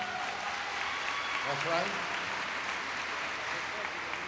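Steady wash of crowd applause at a county recreation center grand opening, moderately distant and sustained throughout, with a brief spoken voice over it midway.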